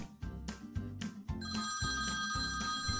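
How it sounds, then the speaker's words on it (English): A telephone bell rings loudly in repeated bursts in an animated Playmobil story set at a pet hotel, filling the short stretch with steady ringing and no talking. "Oh, the phone!"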